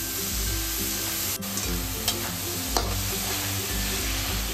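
Chopped fenugreek leaves are stirred into a ground paste sautéing in hot oil, giving a steady sizzle and frying hiss with a few scraping stirs of a spoon against the pan.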